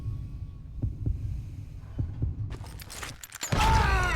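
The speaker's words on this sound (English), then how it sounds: "You hear the heartbeat, you can draw your gun first" Low, throbbing heartbeat thumps in the Call of Juarez Gunslinger video game, a run of soft pulses over a steady low hum, later swamped by louder bursts of game noise.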